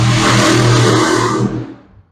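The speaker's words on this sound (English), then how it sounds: "if you heard that, it was a loud motorcycle" A loud motorcycle engine roars past at close range, a dense, steady rumble that holds for over a second and then fades away as it moves off, heard alone without talk.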